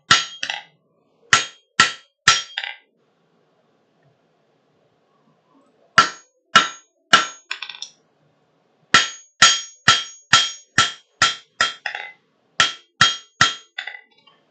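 Metal being hammered on the horn of an anvil: sharp ringing hammer blows in bursts of two to eight strikes with short pauses between, loud and close, with no talking.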